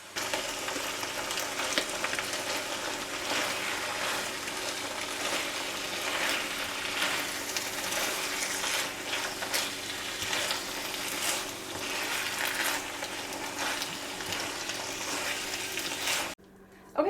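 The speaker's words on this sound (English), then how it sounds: "we are just gonna stir this, mix it till it's all combined for 1 to 3 minutes until the spinach is hot and it wilts" Spinach mixture stirred in a hot pan on the stove, a steady loud sizzle and frying hiss with scraping stir strokes running continuously for the whole stretch, then cutting off abruptly near the end.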